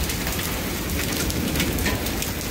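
Small hailstones and rain hammer down in a severe storm, producing a thick, continuous roar of tiny strikes, loud and close, steady throughout with no talking.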